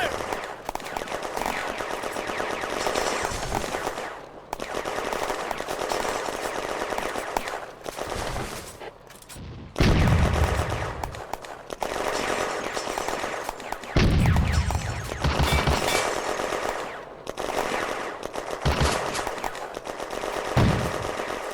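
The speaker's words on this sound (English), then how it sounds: "The mortar opens a fire mission on the German infantry in Charlie sector." In the WWII game Firefight, set in the Flaumont industrial zone in May 1940, mortar and small-arms fire pound German infantry: dense, loud, continuous gunfire broken by heavy low booms from the mortar rounds.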